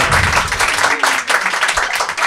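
Studio audience applause during a French comedy podcast with stand-up comedians: a dense, steady wash of many hands clapping at close range, fairly loud, with no one speaking over it.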